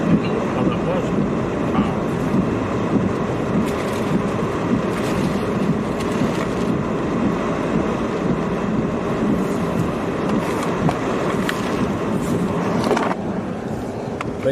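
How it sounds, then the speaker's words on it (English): A freight train rolls through a level crossing on a stormy day, a continuous heavy rumble and rattle of wagons close by, with wind buffeting the microphone throughout and a slight drop near the end. "Train crossing here, as you can see."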